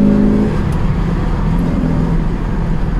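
1969 Chevrolet Camaro Z28 V8 rumbling from inside the car on the road, a steady low engine drone with a brief rev at the start, fairly loud and close.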